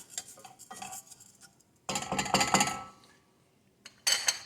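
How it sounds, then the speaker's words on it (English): A utensil stirs and scrapes rice in a pot as risotto toasts, coming in several uneven bursts of scraping and light clinking separated by short pauses, close and moderately loud, with no talking. "So we're going to toast the risotto."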